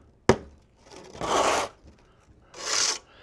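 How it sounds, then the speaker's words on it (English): A large darby trowel drags across fresh stucco on a wall in two long, raspy scraping passes, preceded by a sharp tap, close and fairly quiet. "I'll derby this out with my big Congo trowel"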